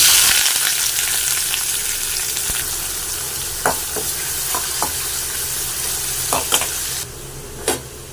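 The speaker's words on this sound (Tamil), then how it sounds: "எண்ணெய் காஞ்சிச்சு கடுகு போட்டுக்கலாம் வெட்டி வச்ச வெங்காயம் பச்சை மிளகாய் கருவேப்பிலை இதுவும் போட்டுக்கலாம்" Mustard seeds, chopped onion, green chilli and curry leaves crackle in hot oil for a carrot poriyal, a loud continuous sizzle broken by a few close scraping stirs, then a quieter stretch near the end.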